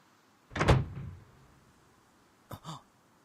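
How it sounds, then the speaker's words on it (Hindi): A door opening with a heavy thud and creaking swing, followed a couple of seconds later by a sharper double knock or latch clack, no voices. "दरवाजा खुला हुआ है।"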